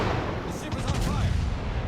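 A naval artillery salvo in a ship combat game, fired from a dockyard ship, gives a quick cluster of gun blasts over steady engine and water rumble, fairly loud but brief.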